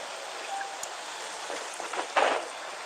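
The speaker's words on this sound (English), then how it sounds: "The rain won't slow me down." Light rain in the video game Genshin Impact, a soft continuous hiss of falling drops with a few brief splashes and a louder burst near the end, no talking.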